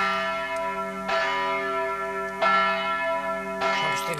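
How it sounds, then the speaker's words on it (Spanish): Church bells from a nearby church ring in slow, spaced strikes, three main clangs with long shimmering sustain between them, moderately distant and without voices. "Oí sonar las campanas en la iglesia cercana."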